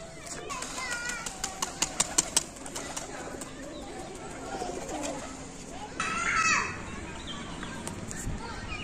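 Soft pigeon coos sound outdoors amid sharp clicks and knocks, with distant background noise and a brief louder rustle partway through.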